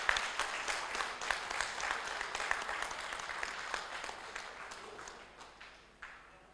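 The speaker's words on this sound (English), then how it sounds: "So all big clap for her." An audience at an oncology summit gives host Dr. Romila a steady round of applause, many hands clapping in a dense patter that fades slightly toward the end.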